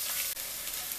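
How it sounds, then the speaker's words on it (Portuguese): Thin and thick calabresa sausage frying in a pan: a dense, steady hiss of spitting oil fills the whole second, close and loud, with no voices. "já vamos aproveitar e colocar a calabresa fina e vamos fritá-las também"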